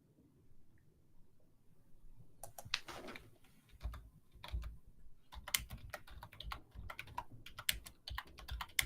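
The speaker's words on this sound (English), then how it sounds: "I'm just doing a little typing there." Bursts of keystrokes clatter on a computer keyboard, coming in irregular clusters of quick taps with short pauses between them, close and fairly quiet against a low background murmur.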